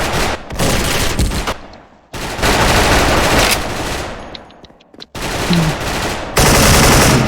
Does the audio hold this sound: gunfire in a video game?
yes